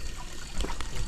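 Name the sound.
river water trickling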